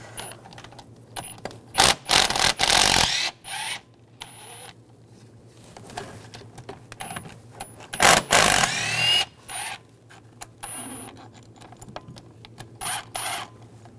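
Ratcheting clicks from an E10 socket ratchet backing bracket bolts out of a 2006-2009 Mercedes-Benz E350 3.5L V6, coming in several close, loud bursts of rapid clicking with quiet pauses between them.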